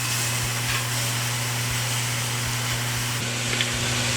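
A kitchen vent fan runs steadily with a low constant hum and broadband hiss, close and unchanging, while iguana meat is being seared on the stove.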